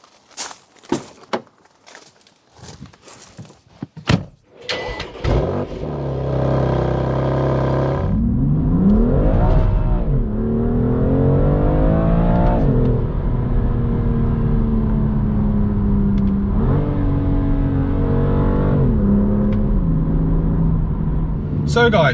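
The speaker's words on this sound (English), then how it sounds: "let's jump in the car, let's get going, let's go for a drive." A BMW M2 CS starts up after door and footstep clatter, then drives on the road with a loud, steady engine drone that rises and shifts as it accelerates through gears, heard from inside the car.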